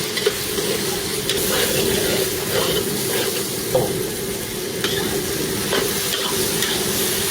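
Garlic, onion and tomato sautéing in a hot pan give off a loud, steady sizzle with scraping stir strokes running through it, and no one speaks.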